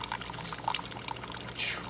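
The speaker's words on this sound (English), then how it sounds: "So water is dripping through well" Water trickles and drips steadily through a dart frog vivarium, a soft, close, continuous splashing with a brief louder pour near the end and no voices.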